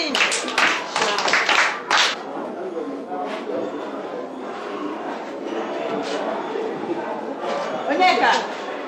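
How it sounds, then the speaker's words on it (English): A few people clapping for a child after he spells a word, sharp close claps early on, then scattered claps under overlapping chatter and speech. "Clap for him."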